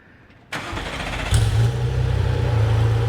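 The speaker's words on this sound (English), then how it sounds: "we're gonna give it a quick start up in non-sport mode and hear it" A Gunther Werks Speedster fires up in non-sport exhaust mode: a short starter whir, a sharp catch, then a brief flare before settling into a steady, full idle, heard alone up close.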